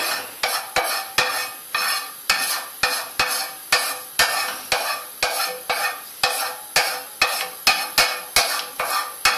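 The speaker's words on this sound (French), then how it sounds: "J'étale un peu mon huile dans ma poêle." A utensil scrapes and spreads oil around a frying pan in a steady, repeated rhythm of about a dozen close strokes over a faint hiss.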